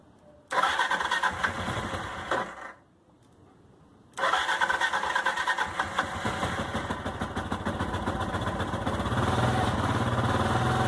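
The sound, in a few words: motorcycle engine running with choke half on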